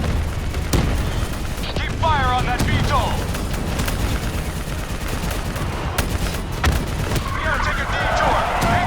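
Dense Call of Duty Black Ops III battle with constant gunfire, heavy booms and explosions rumbling underneath, and voices shouting over the din.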